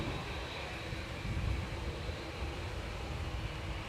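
A Boeing 787-8 Dreamliner departs Manchester Airport for Mahon, Menorca, as a faint, distant, steady jet rumble with no clear rise or fall.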